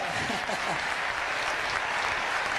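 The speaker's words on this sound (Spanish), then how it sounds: "Sí, un aplauso, por favor." Audience applause during a political talk show appearance, a dense, steady wash of clapping from a crowd filling the whole moment at even loudness.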